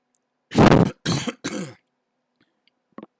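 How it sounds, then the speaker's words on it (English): A man clears his throat in a quiet room. There are three rough, close bursts in quick succession, the first the loudest, followed by a faint small sound. "I just had to clear my throat."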